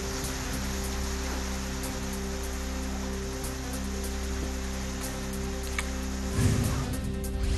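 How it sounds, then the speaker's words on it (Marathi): Heavy pre-monsoon rain pours steadily in Jintur, Parbhani, a dense continuous wash of falling water with a few louder knocks and gusts near the end. "परभणीच्या जिंतूरमध्ये मान्सूनपूर्व पावसाचा फटका"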